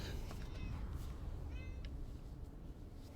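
A house cat meows a few times, thin and fairly faint, over a steady low rumble of background noise; short high cries come in brief bursts near the start and middle.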